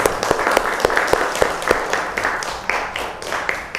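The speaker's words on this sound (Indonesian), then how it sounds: "Tepuk tangan untuk kita semuanya." A classroom of students claps together in a sharp, irregular burst of applause, close and fairly loud, gradually thinning out toward the end.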